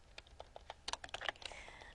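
Rapid typing on a computer keyboard, a run of sharp, irregular key clicks that speeds into a dense flurry near the end, close and clear with no talking.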